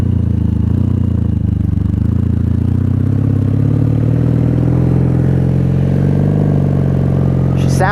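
A 1997 Honda Magna VF750C motorcycle engine heard on a ride, a loud steady mid-range drone that climbs gradually in pitch as the bike pulls through the gears.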